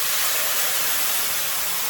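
Brandy poured into a hot pan with pork chops and orange sauce flares into a loud, steady steaming hiss that holds close and unbroken for a couple of seconds, with no talking over it.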